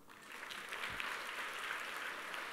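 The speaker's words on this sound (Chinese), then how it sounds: "给他一个掌声好不好？" An audience at a sales seminar claps together in a dense, steady ovation that holds at an even level for the whole stretch, with no voices standing out above it.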